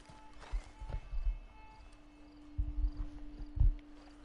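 Scattered bursts of hoof clopping come and go over a faint steady hum, a horse moving in short runs with quiet gaps between, in the video game Red Dead Redemption 2 Online.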